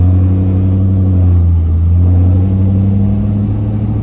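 A 1968 Chevrolet Camaro SS with a 4-speed manual cruises on a test drive, its engine giving a steady, loud low rumble with a smooth, even drone throughout.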